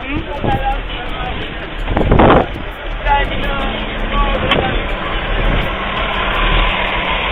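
Vehicle engine droning steadily while driving in Haiti, heard under wind noise and bumps, with a few louder knocks along the way and a person talking over it.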